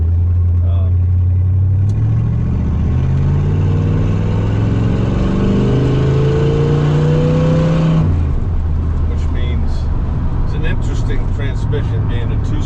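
A 1966 Corvette with a 327 engine and two-speed Powerglide automatic drives along, its engine note climbing steadily as it accelerates, then dropping at the upshift into a lower, steady cruise. Someone talks over the engine throughout.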